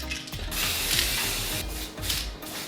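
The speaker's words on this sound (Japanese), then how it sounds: "適当な缶スプレーで塗装していきます。" A spray paint can hisses in long bursts while coating a wiper arm from a Suzuki Every DA64V, close by, with rattling, clicking handling noises between and under the spraying.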